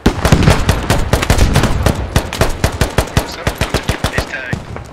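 Sustained automatic gunfire from a squad-based military shooter, rapid close bursts cracking in a steady rhythm, loud and nearly continuous for several seconds before thinning into spaced shots.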